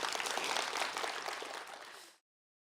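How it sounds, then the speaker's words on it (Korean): A conference audience applauds a team in a sustained wash of many hands clapping, fairly distant, which fades out after about two seconds. "이 시행착오를 겪으면서 여기까지 온 저희 팀원들한테 저한테 박수 한번 부탁드립니다"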